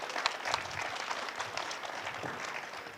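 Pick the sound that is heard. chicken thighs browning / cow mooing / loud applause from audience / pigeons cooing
loud applause from audience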